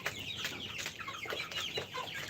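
A group of 47-day-old chickens raised for egg laying clucks and murmurs softly in overlapping, fairly quiet calls, with no talk.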